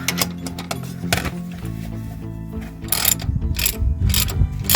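A ratchet wrench snugs the lug nuts on a rear wheel of a 2013-2017 Enclave, Traverse or Acadia SUV, giving close, loud bursts of rapid pawl clicking with brief pauses between them.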